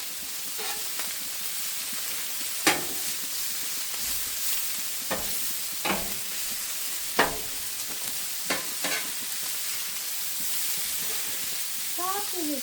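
Sausage fries in a pan alongside potatoes, giving a steady low sizzle with occasional sharp pops and scraping stirs throughout, quiet and continuous with no talking.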